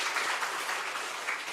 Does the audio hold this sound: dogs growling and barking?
no